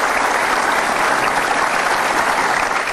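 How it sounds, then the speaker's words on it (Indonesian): Studio audience applause on a television talk show, a dense, even roar of many hands clapping without a break, loud and steady with no talking over it. "tepuk tangan boleh, itu pun udah"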